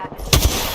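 Short burst of close, loud gunfire in the video game Apex Legends, a couple of sharp cracks in quick succession over a noisy background.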